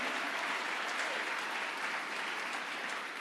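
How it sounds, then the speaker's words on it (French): A church congregation claps loudly and continuously, a dense, even wash of applause held at full strength throughout without pause or voices standing out. "Est-ce qu'on peut acclamer très fort?"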